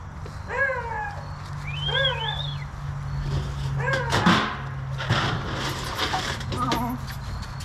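A kitten mews in short, rising-and-falling cries, three or four distinct meows spaced across the stretch, close by over a low steady hum, with a few scattered knocks and rustles in between.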